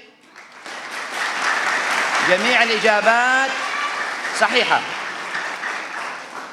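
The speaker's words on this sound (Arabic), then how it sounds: "تصفيق." An audience applauds at a Syriac language quiz event in Bakhdida, steady clapping building and holding for several seconds while someone speaks over it.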